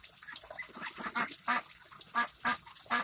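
Ducks quack repeatedly at close range in short, nasal, honking bursts, coming roughly every half second and growing louder toward the end.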